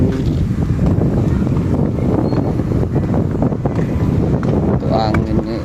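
Strong wind at a rest area in Sragen buffets the microphone in loud, continuous low rumbling gusts beside a parked car, with faint talk now and then.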